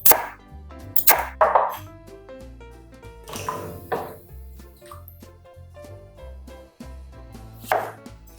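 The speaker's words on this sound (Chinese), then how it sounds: "番薯皮削干净之后，将它们切成薄片" Peeled sweet potato being cut into thin slices with a knife: a few sharp, scattered chops against a board, spaced irregularly under continuous background music.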